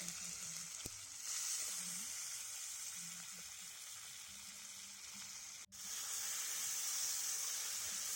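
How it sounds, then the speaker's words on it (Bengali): Chopped tomatoes frying in hot oil with panch phoron and two whole dried red chillies, a steady loud sizzle and hiss throughout with a brief dip near the end before the spitting resumes. "হালকা লাল হয়ে আসার পরে কেটে রাখা টমেটো মা তেলের মধ্যে দিয়ে দিচ্ছে"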